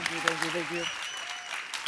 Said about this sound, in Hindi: एक बार गौहर और राजीव के लिए जोरदार तालियां।